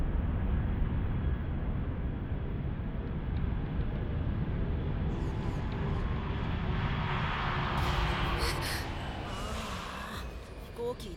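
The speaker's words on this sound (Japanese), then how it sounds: "飛行機行っちゃったよ。" An airplane flies past in an animated Fist of the North Star feature, a broad, continuous roaring rumble that holds steady and then thins out, with breathy gasp-like sounds near the end.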